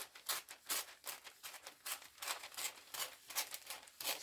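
Old scissors snip off excess craft material in a quiet holiday crafting session, a close series of crisp, irregular cutting clicks and rustles, faint and alone.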